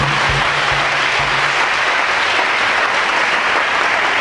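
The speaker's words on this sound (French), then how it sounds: "Encore acclamez pour le Seigneur Jésus." A church congregation applauds together in a loud, dense burst of steady clapping that fills the whole moment, with no voices over it.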